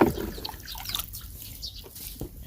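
Tap water poured into a bucket on an eggplant farm to fill a 13.5-liter knapsack sprayer, a steady close splashing trickle that runs without a break for a couple of seconds.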